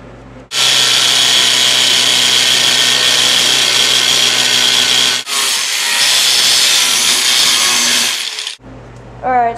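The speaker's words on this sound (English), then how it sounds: "I grinded down my welds a little bit and went over the whole thing with a flat disc" An angle grinder fitted with a flap disc grinds down welds on an off-road lawn mower exhaust, loud and close in two long bursts split by a brief pause, then spinning down.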